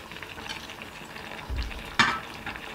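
Stir-fried zucchini and chicken with scallions and sesame oil tossed in a pan, giving a soft sizzle with a low thump and a sharp scrape of the spatula partway through, close and moderately quiet.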